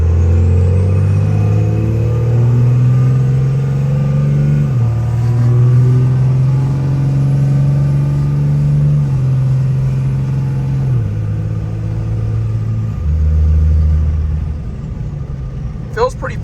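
Diesel truck fitted with a Fleece turbo, S&B intake and 5-inch MBRP exhaust, revved hard at full throttle: a loud, steady low rumble climbing through gear steps over a sustained pull, with talk over it.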